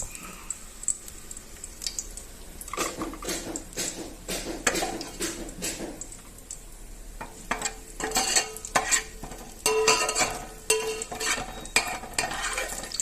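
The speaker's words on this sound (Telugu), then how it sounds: "ముందుగా వేడైన ఆయిల్లో ఆనియన్స్ ఇలా పకోడీకి తరుక్కున్నట్టుగా తరుక్కొని మనం బిర్యానీకి ఫ్రై చేసుకుంటాం కదా అలా చేసుకొని పక్కకు పెట్టుకోవాలి" Sliced onions fry in hot oil for biryani-style frying in a pan, with a sizzling hiss broken by repeated stirring scrapes and clatters that grow louder and busier partway through, and no one speaking.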